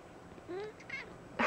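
A pet cat gives a short, drawn-out meow followed by a brief second call, fairly close and clear over a quiet indoor background.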